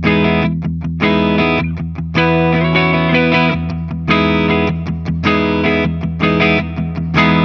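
Electric guitar through an ENGL Ironball Special Edition amp with delay and reverb, loud distorted chords and riffs played in rhythmic bursts, each trailing into wet echoing decay, with no talking.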